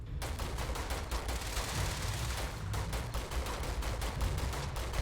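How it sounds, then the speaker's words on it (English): Rapid automatic gunfire from the video game Starfield, a steady fast stream of shots with a short pause partway through, loud and continuous with no talk. "Then watch her shoot."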